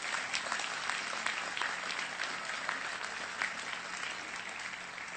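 Steady crowd applause from an outdoor audience at the Franklin D. Roosevelt Four Freedoms Park dedication ceremony, dense overlapping claps sustained evenly throughout at moderate loudness, with no speech over it.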